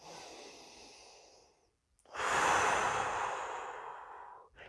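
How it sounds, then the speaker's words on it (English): Long, deep belly breathing, a slow inhale followed by a brief pause and then an extended, loud exhale, close up with no talking. "to be able to take long, deep belly breathing"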